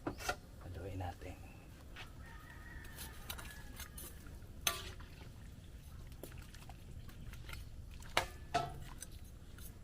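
Fish stew with grouper being stirred in a cooking pot in a rural home kitchen, with soft scraping and clinks of a utensil against the pot, faint and close, while a voice talks.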